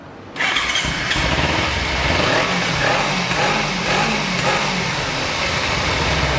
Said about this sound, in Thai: ฟังเสียงเครื่องยนต์กันครับ